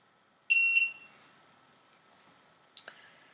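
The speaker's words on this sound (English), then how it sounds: "The pod goes green to indicate a valid redemption, and it beeps." A podifi pod gives one short, bright electronic beep as it confirms a valid coupon redemption, followed later by a couple of faint clicks in a quiet room.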